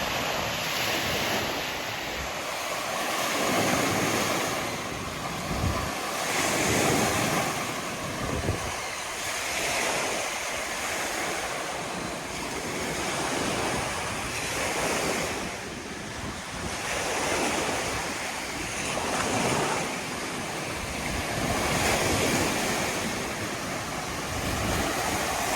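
Morning waves wash along the Lake Erie shore in a steady, surging rhythm, with gusts of wind buffeting the microphone and no voices.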